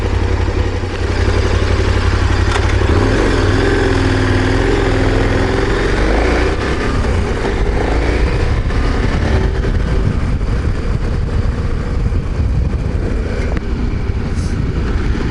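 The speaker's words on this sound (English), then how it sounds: "I'm gonna head down the dirt road and give it a gravel road test." A KTM 1090 Adventure R motorcycle ridden down a gravel dirt road, its engine droning loudly and continuously under heavy wind buffeting and gravel rumble, with pitch rising and falling through gear changes.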